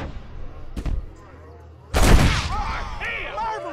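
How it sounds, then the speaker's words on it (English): Gunfire in the Western video game Red Dead Redemption: a short sharp report, then a louder booming blast that rings on with echoing tail while a voice speaks over it. "Marvelous shot, dear boy!"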